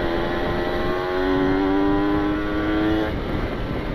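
A Kawasaki Ninja RR motorcycle engine revs with a rising, steady drone and a slight pitch climb, then eases off near the end; close and fairly loud.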